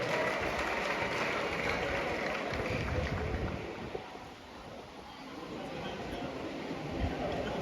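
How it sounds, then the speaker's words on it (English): A crowd claps steadily for several seconds, dipping briefly midway before picking back up, with a faint wash of murmuring voices underneath. "Let's clap for them."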